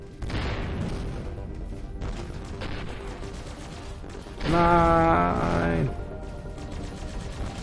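Rapid bursts of spaceship weapon fire in the space game Avorion crackle in short volleys, with one louder, buzzing sustained blast midway, while someone talks in German over the action.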